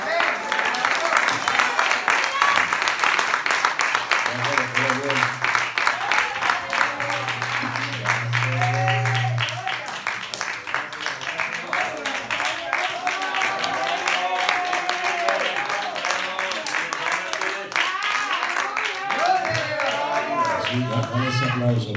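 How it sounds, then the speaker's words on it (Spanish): Dense, continuous clapping from a crowd at a religious service goes on at length, with voices talking and calling out over it. "Con ese aplauso, Dios se lo merece."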